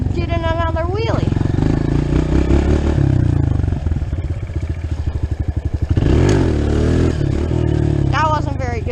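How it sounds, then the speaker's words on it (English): A dirt bike on trails revs hard for a wheelie, its engine a loud, steady roar with rising and falling pitch, close to the rider, with a clattering thump near the end. "we're gonna get in another wheelie"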